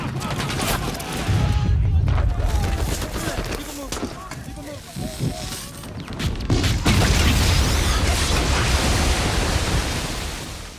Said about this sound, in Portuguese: As explosões das cargas americanas se misturavam às das granadas e projéteis alemães.